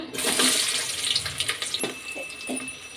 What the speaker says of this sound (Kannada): ಈಗ ಎಣ್ಣೆ ಕಾಯ್ದಿದೆ, ಈರುಳ್ಳಿ ಹಾಕ್ಕೊಳ್ಳೋಣ